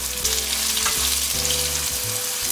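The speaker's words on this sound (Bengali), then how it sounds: "এবার হালকা করে সেদ্ধ আলুগুলোকে ভেজে নিচ্ছি" Boiled potatoes fry in a pan with a loud, dense sizzle throughout, overlaid by a steady background tonal hum.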